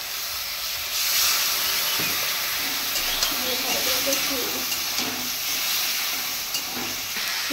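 Cumin, chili and ginger paste frying in a pan with turmeric, a steady close hiss and sizzle with faint stirring scrapes throughout.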